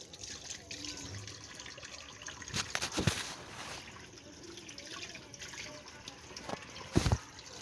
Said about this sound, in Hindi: चले हाथ धो लूँ मैं।